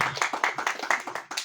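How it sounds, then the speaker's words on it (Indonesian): A small gathering at a permit meeting claps together, a quick rhythmic run of about a dozen distinct, fairly close hand claps that is quiet overall. "Tepuk tangan buat semuanya."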